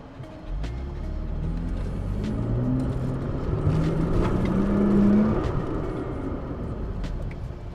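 A third-generation Toyota Tacoma launches from a dead start in Explode throttle mode, its engine rising into a steady, swelling rumble that climbs in pitch and holds loud to the end.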